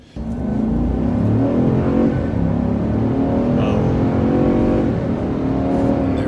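A 2019 GMC Sierra Denali 1500 pickup accelerates hard toward 60 mph, its engine a loud, steady roar that climbs in pitch from inside the cab.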